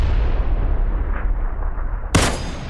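Gunfire in a shooter video game: a continuous dense rumble of distant artillery-like shots, then a sharp, loud nearby gunshot burst near the end, with no talk.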